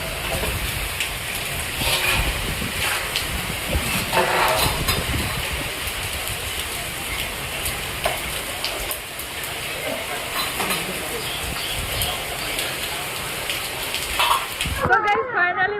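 Heavy rain pours steadily during a lightning storm, with a dense hiss and occasional louder gusts, and a voice speaks briefly at the very end.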